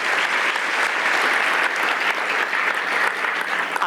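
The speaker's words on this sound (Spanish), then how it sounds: "Le das un aplauso de bondad a Dios." A church congregation applauds steadily and densely throughout, a loud, even wash of many hands clapping with no pauses and little speech over it.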